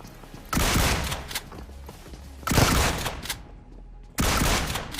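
A DBS double-barrel shotgun in a mobile battle game fires three loud, close bursts spaced a second or two apart, each trailing off into ringing echoes.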